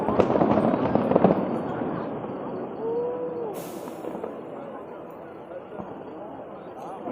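New Year 2023 fireworks burst over the Burj Al Arab in Dubai as distant booms and crackling pops, loudest in the first seconds and then fading, under a crowd's steady chatter and cheering.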